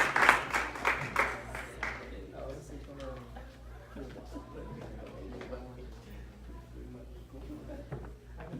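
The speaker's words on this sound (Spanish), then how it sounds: "vamos a darle un aplauso al Señor Jesucristo para recibir al pastor Kiki Moreno" A church congregation claps to welcome Pastor Kiki Moreno, with a burst of applause fading within a couple of seconds into murmuring voices, chatter and light laughter in a reverberant hall.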